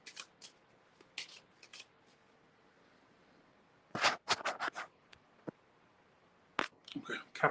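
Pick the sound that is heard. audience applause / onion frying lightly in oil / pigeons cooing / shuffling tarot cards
shuffling tarot cards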